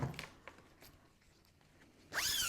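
Zipper sliders run along a length of zip-on-a-roll tape for sewing a cosmetic bag, giving a few faint ticks and then one loud, close, rasping zip pull near the end. Nobody speaks.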